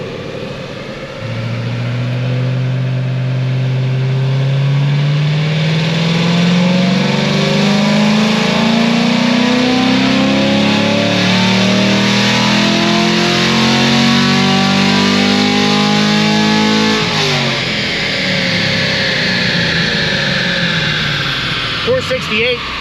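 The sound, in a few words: race car engine revving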